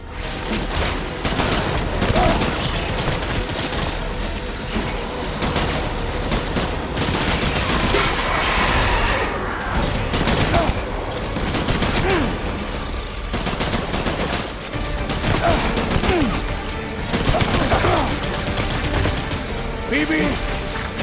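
Sustained gunfire from a Death Stranding boss fight against Cliff, with dense volleys and bursts of shots running over a loud, continuous game soundtrack and explosions.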